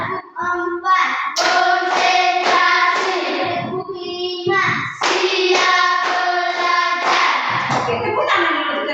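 A class of children claps together in a counted pattern, with rhythmic bursts of group claps mixed with voices chanting along, pausing briefly before another round begins.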